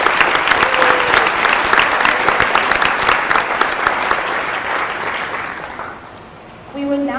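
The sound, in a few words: audience applause at a senior awards ceremony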